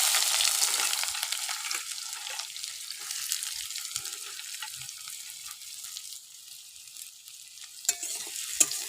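Chopped onion goes into hot oil with cumin and chili for a poi saag raita, starting with a bright, fierce sizzle that settles into a softer hiss with stirring clinks and a few sharp knocks.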